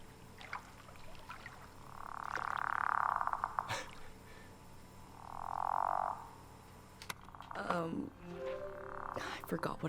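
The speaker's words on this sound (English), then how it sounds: "Here's a cute little frog ribbiting on a small little rock next to 3 lily pads and a flower." A small frog croaks on a rock beside lily pads and a flower in the game Season: A Letter to the Future. Two long, loud croaking calls sound over quiet ambience, and people talk in the background.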